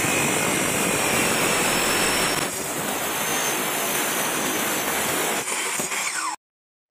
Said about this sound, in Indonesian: kali ini yang kita gunakan adalah cutting mesin, karena cutting mesin kerjanya lebih cepat dan lebih presisi.